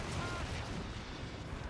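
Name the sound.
artillery attack in Dawn of War 2 video game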